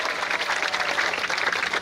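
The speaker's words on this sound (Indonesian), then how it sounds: "Tepuk tangan untuk kita semua, 280 orang." Applause for the 280-member Papua contingent, a brief burst of crowd clapping with an uneven, fluttering rhythm, moderately loud and without speech over it.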